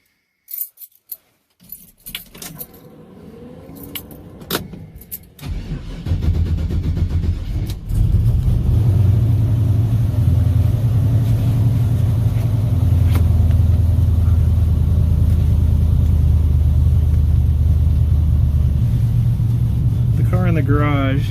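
Car keys jangle and clicks sound before an engine starts, then a loud, steady engine rumble settles in as the car drives off, close and continuous.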